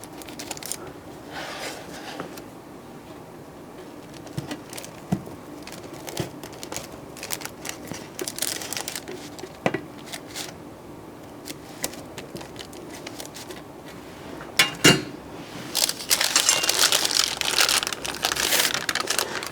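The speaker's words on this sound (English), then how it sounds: "So I am going to cut it into 4 slices right on the parchment paper and the cookie sheet." A pizza cutter slices a tortilla pizza on parchment paper over a cookie sheet, making scattered crackling and crinkling crunches, sparse at first and then busier near the end, with no talk.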